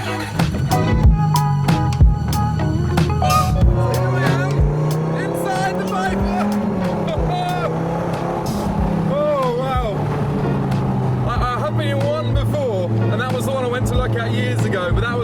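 A Dodge Viper sports car drives with a deep, loud engine drone that shifts pitch as it accelerates and eases off, heard from close by with road noise throughout.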